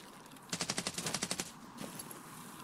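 A burst of automatic gunfire in the Escape from Tarkov shooter game, around a dozen rapid evenly spaced shots over about a second, fairly close and sharp, followed by quieter scattered distant shots against low background ambience.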